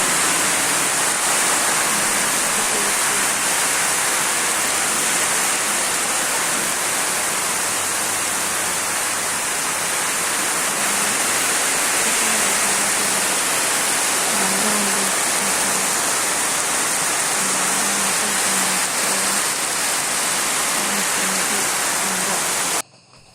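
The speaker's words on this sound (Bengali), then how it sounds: "এর মধ্যে বৃষ্টি আনছে, ধারা খুব বৃষ্টি।" Heavy rain pours down in a dense, constant rushing hiss that stays loud and unbroken, with faint low murmurs beneath it.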